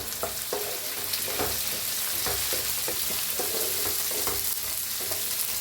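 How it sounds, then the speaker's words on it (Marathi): Tomatoes roasting in a pan, a constant sizzle with repeated spatula scrapes and knocks at an irregular rhythm, heard up close with no one speaking. "टाकूया टमाटर, छान असं भाजून घेऊया"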